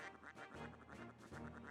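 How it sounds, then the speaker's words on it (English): A duck-like quack sound effect from a mistaken menu button press in the Suikoden II video game, several rhythmic bursts repeating over game music, fairly quiet. "if you're listening closely and you hear a quack, it's because I am trying to menu and pushing the wrong button"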